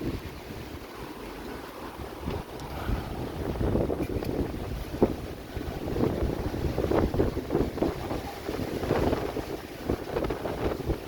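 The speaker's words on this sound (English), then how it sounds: "It's a lot of wind." Strong night wind gusts against the microphone in a yard, a constant rough rumble that surges and swells in waves, loud and close with no voices.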